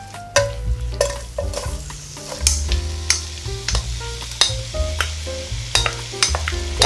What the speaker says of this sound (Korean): 양념한 가지를 모두 다 넣고 볶아주세요.